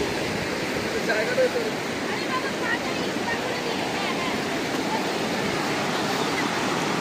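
Kanchangha waterfall in Sikkim gives off a steady, loud roar of rushing water that fills the whole scene without a break, with a faint voice or two barely audible under the torrent.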